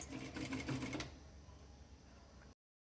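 A sewing machine topstitching fabric for a scrap-fabric zip pouch: a short rhythmic stitching chatter for about a second, then a low quiet hum before it stops, close and fairly soft.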